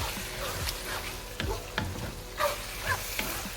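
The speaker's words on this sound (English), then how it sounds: "Give that a good stir." Basil stirred as it fries in a pan, with scraping strokes and bursts of sizzling at an uneven rhythm, close and fairly quiet, with no talk.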